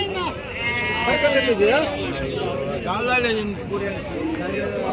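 Several sheep and goats bleat repeatedly nearby amid a busy weekly livestock market din, their wavering calls overlapping one another.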